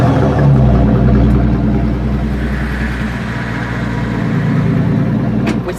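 A Maybach Exelero's V12 biturbo engine runs at a steady idle with a deep, even rumble, close and continuous, easing slightly in tone partway through.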